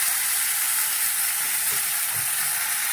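Vegetables, including okra, sizzle in hot oil with panch phoron, a dense steady hiss of frying close by, with faint stirring knocks underneath.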